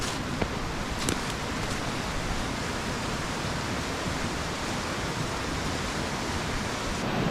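A big waterfall and the shallow, low river current below it roar as a steady, dense wash of rushing water that stays constant and loud throughout, with no voices over it.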